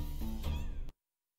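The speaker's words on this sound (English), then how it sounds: "I love that cat." A cat meows in the River City Girls 2 video game, a close, bright, wavering call lasting under a second that cuts off abruptly into silence.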